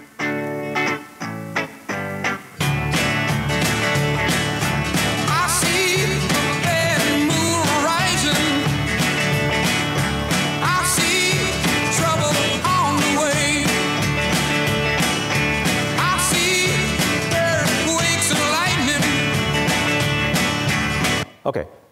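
Dense music plays back from a record cut and scanned by machine, full and continuous after a few choppy bursts at the start, loud and close with no talk over it.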